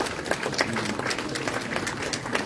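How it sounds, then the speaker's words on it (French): A crowd at a ministerial agriculture and rural development event applauds steadily, dense overlapping claps at moderate volume holding even throughout without any voice over them. "Applaudissements nourris"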